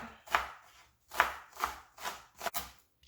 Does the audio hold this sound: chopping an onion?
yes